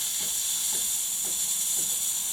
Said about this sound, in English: That's steam.